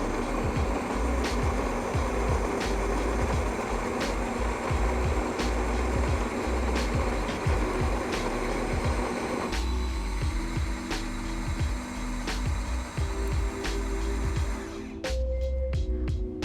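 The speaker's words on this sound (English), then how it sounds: "You definitely hear it because it's grinding the beans." The built-in grinder of a Breville Oracle Dual Boiler espresso machine grinds coffee beans, a loud continuous whirring grind with a regular ticking pulse that shifts pitch partway through, then cuts off near the end.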